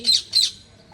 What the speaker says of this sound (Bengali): টিয়ে পাখি আসছে আমার টিয়ে পাখি তাই ডাকতেছে